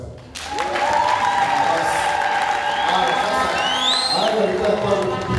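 Church congregation claps together during a men's celebration service, steady applause after a brief quiet start, with a voice talking over the clapping.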